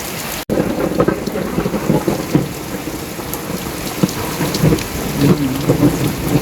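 Heavy rain pours steadily onto garden plants and leaves, with low thunder rumbling beneath the downpour; a dense, continuous wash of sound, close and loud, with no voices.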